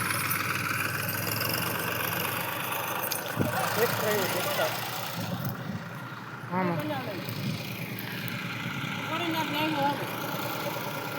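A tractor engine idles with a steady low rumble throughout while people talk over it.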